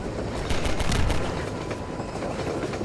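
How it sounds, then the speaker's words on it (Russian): Train in the game Half-Life 2, a dense rattling rumble of rail cars with a burst of sharp clacks near the start, continuous and fairly loud, no voices. "О, поезд остановился."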